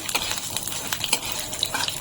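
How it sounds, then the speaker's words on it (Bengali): A few garlic cloves are stirred in a pan of fried lentils, with soft, irregular scraping and light clinks of a utensil over a faint sizzle, quiet and close. "এখন আমি এর ভিতরে কয়েকটা রসুন দিয়ে দিচ্ছি, 5-6 কোয়া রসুন। রসুনটাকে একটু হালকা নাড়বো,"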